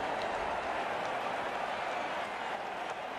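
Cricket crowd at a match applauding and cheering after a big shot, a dense, steady wash of clapping and crowd noise heard at a distance, fairly faint and unbroken throughout.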